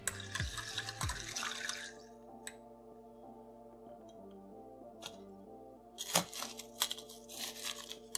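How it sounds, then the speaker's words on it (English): Crushed ice clinks and rattles as a coffee Americano cocktail is stirred in a glass, light tinkling ticks and splashes close by, busiest at the start and again near the end, with no speech. "give it a quick stir."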